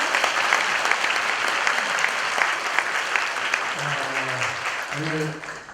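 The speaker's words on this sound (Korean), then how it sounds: "뜨거운 박수로 맞이해주세요" A crowd at a Korean Liberation Day commemoration in the National Assembly gives warm, steady applause to welcome a pastor to the stage. A voice begins speaking over the clapping near the end.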